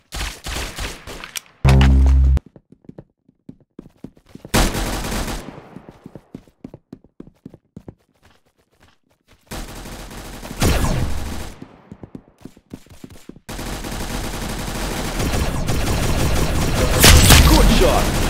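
Roblox video game gunfire: bursts of rapid shots and rattling fusillades, loud and close, with quieter gaps between volleys and a dense stretch of continuous firing near the end.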